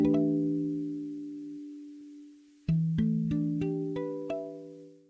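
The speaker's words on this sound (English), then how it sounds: "That sound is called harmonics, a technique that creates these delicate bell-like tones on the guitar." Guitar harmonics ring out as delicate bell-like tones: a sustained chime fades, then a quick sequence of five or six clear, bright plucked harmonics follows, close and alone.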